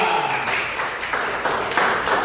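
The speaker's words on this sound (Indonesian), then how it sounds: "Tepuk tangan untuk kelompok 2." Children in a classroom clap for group 2, a short burst of close, dense clapping that lasts for the whole moment.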